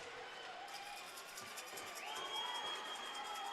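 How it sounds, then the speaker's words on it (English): Hockey arena crowd erupting in cheers during game 4 of a playoff series, a dense sustained roar with shouts and whistles that swells louder toward the end. "And the crowd erupts."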